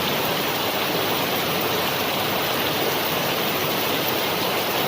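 Floodwater overflows from a canal and pours strongly toward a house, producing a loud, continuous rushing roar like a waterfall that holds steady throughout with no voices.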